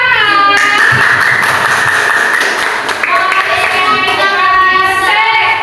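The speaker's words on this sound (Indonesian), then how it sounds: "Oke, tepuk tangan. Tepuk tangan." Students in a classroom clap their hands, a steady loud patter of claps that continues throughout under voices and sustained tones.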